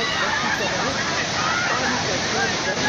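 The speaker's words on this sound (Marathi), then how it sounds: "किती वेगानं हे पाणी प्रवाहित होतंय" Fast-flowing waterfall at Lonavala, a dense steady roar of rushing water filling the whole clip at close range, with a faint murmur of voices beneath.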